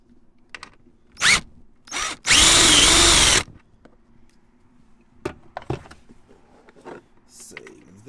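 A power tool, likely an impact driver or drill, removes a small 10mm bolt from an Acura Integra Type S interior panel, giving one loud sustained burst of about a second after two short blips, followed by faint clicks and handling noises.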